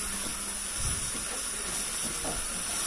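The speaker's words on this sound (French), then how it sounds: "Donc là, la vapeur se lance." The steam wand of a Saeco Syntia automatic coffee machine hisses with a steady, fairly quiet jet of steam, joined by faint gurgling and a soft thump near the middle.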